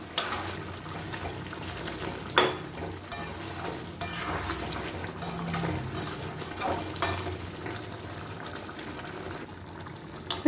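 A spoon steadily stirs gondhoraj chicken in a pan with lime juice and burnt lime peel, a continuous wet scraping and sizzling with periodic clacks of the utensil against the pan.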